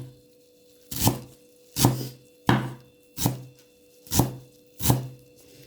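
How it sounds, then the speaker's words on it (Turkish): Knife chopping onions on a cutting board, six crisp separate chops spaced about a second apart, close and fairly quiet with no talking. "bu soğan doğramanın böyle bir ağlaması var işte"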